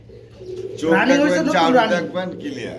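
Dragon pigeons at a pigeon sale give a close, fairly loud, throaty coo lasting about a second, with softer cooing after it.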